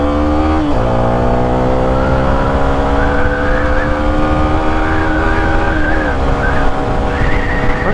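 Loud, continuous engine note from a 2023 Yamaha Sniper 155 motorcycle revving hard while riding, its pitch climbing steadily and dipping briefly at several gear changes.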